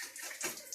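Water is poured over a body while bathing from a basin, heard as a short, soft hissing splash, fairly quiet and close, with no voices.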